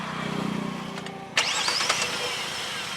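Kia Carens 2024 petrol engine cranking and catching at about the midpoint, a sharp whine and then a steady idle with slight vibration, preceded by a low hum.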